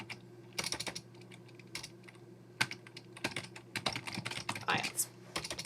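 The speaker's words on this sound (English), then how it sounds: "I'm so sorry about the typing and the spelling" Quiet, close clatter of fingers typing on a computer keyboard, in uneven bursts of keystrokes with short pauses, over a low steady hum.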